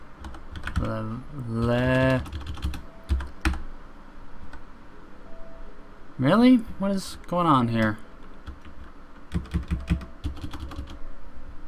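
Bursts of keyboard typing, clicky keystrokes on a computer keyboard during a strategy-game session, come in short runs between stretches of someone talking, the clacking sometimes audible under his voice.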